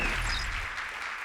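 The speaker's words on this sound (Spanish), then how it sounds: "Aplausos." Audience applause greets a speaker at a Pecha Kucha night in Buenos Aires, a brief, moderately loud spatter of clapping that fades within about a second.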